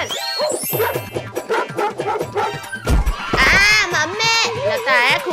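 Dogs bark and yip loudly in a desi comedy skit while children cry out and shout, with barks, yelps and frantic young voices overlapping throughout.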